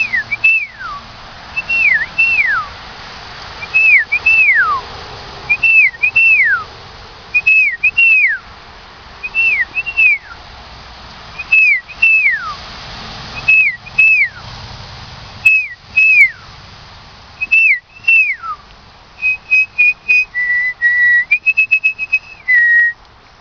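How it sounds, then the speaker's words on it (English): A person whistles to call birds, repeating a short rising-and-falling two-note call about a dozen times at steady intervals, then ending with a few held flat tones, loud and close with no talking. "I'm going to start whistling and all the birds will show up."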